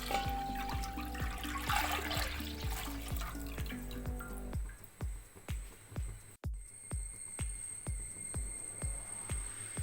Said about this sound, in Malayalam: നമുക്ക് ഉരുളിയിലേക്ക് പാൽ കൊടുക്കാം ഇത് ഒന്നര ലിറ്റർ പാലും ഒന്നര ലിറ്റർ വെള്ളവും കൂടി ചേർന്നതാണ്